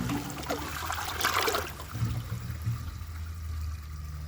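An American Standard Homestead VorMax toilet flushes with a forceful rush of water, a loud gurgling surge up front that settles into a steady trickling drain, no voices.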